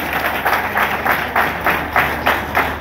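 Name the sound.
audience applause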